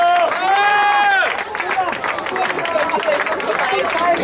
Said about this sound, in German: Ein schöner Applaus hier, bitte.